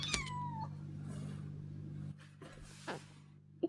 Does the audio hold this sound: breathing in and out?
no